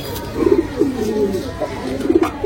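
Rampuri pigeons cooing close by, several low throaty rolling coos in quick succession, with a voice speaking faintly in the background.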